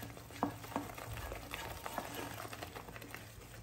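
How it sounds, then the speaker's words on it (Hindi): Tomato masala gravy for a Nellore-style fish curry fries on high flame, a soft steady sizzle with a few light spoon taps and scrapes, faint and close. "हाई फ्लेम पर 1 से 2 मिनट के लिए भूनते जाइए।"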